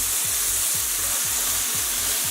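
Beef steak frying hard in a hot pan just after being flipped: a loud, dense, continuous sizzle, close up, with a steady low rhythmic pulse running underneath.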